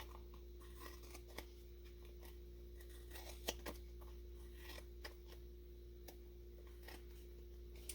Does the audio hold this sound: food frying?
no